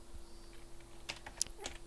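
A few scattered computer keyboard keystrokes, clicky and fairly faint, entering text into a PowerPoint 2016 text box, with irregular taps separated by short quiet gaps.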